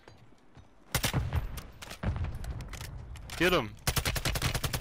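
Rapid automatic gunfire in Call of Duty MW3 Warzone crackles close and loud in several bursts, with a short spoken line and a whooshing sweep between the volleys.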